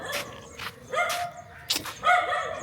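A dog barks several times in short, close, sharp bursts, with whimpering yips between them during a walk.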